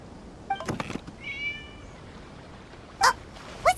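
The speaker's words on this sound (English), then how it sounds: "It was just a cat." A cat meows a few times in Genshin Impact, short and mid-pitched, with a couple of sharper meows near the end over a quiet background.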